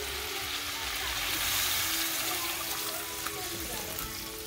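Water pours steadily into a hot pan of browning chicken, a broad hissing rush with sizzling, continuing for several seconds.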